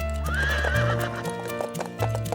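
A horse gives a loud, rising neigh close by while its hooves clip-clop in a steady sequence of sharp knocks under the whinny.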